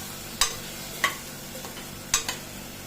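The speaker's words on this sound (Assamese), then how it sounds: "লৰাই ইয়াতে দিলোঁ দালিখিনি। দি গোটেইখিনি আকৌ অলপ লৰাই দিছোঁ।" Spoon stirring dal with mixed vegetables in a frying pan, a few sharp scraping knocks spaced about a second apart over a soft background hiss, close and moderately loud.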